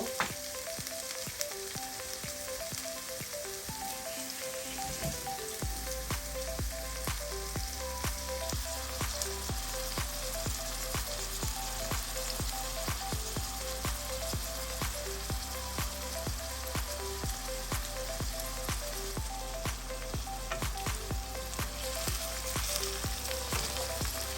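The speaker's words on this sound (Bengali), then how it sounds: "পেঁয়াজটা হালকা বাদামি কালারে ভাজা হয়ে গেছে" Onions frying in oil until light brown for a prawn and ash gourd curry, a dense continuous sizzle and crackle heard up close, with an occasional stir, running steadily with no talk.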